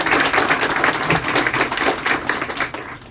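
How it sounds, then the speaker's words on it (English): Dense, steady applause from a crowd gathered to honor hospital staff and volunteers at a breast health center ribbon cutting, many hands clapping at once without a break. "So big round of applause to all the staff."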